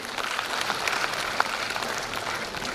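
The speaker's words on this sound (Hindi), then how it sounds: "क्यों ना इस बात पर हमारे पेरेंट्स के लिए जोरदार तालियां हो जाए।" An audience at a school annual fest claps loudly for the parents, a dense, continuous burst of applause from a crowd.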